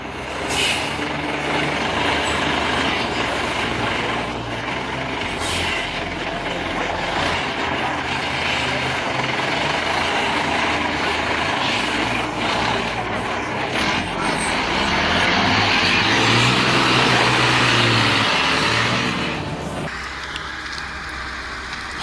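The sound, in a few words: timber hauler logging truck engine roaring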